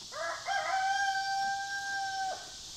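A rooster crows once, a long, clear, drawn-out call that rises then holds steady before breaking off, fairly close and alone.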